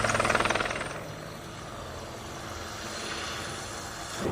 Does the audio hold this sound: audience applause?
no